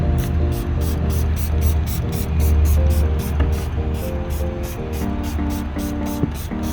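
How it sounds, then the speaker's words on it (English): Alcohol is sprayed onto a 2010 Acura RDX before a rain visor is installed, in a quick series of sharp, evenly spaced spray hisses over a steady tonal background hum. "probably just gonna start spraying first"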